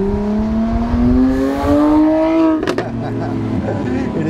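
A 2020 Lamborghini Aventador SVJ with a single-clutch automated gearbox climbs in revs to a loud wail, then a shift brings a quick burst of sharp exhaust pops and crackles before the engine settles into a lower hum.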